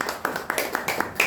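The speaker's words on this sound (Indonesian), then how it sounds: "Tepuk tangan." A few sparse hand claps from an audience at a talk on city, photography and the creative economy, spaced unevenly across a short moment and fairly close.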